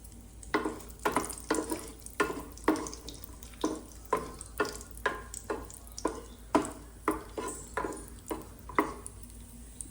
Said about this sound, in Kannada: 1-2 ಸ್ಪೂನು ತುಪ್ಪ ಹಾಕ್ತೇನೆ. ಗೇರು ಬೀಜ, ರುಚಿ ತಕ್ಕಷ್ಟ ಒಂದು ಸ್ವಲ್ಪ ದ್ರಾಕ್ಷಿ ತಗೊಳ್ತೇನೆ.